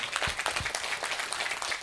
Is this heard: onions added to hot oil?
no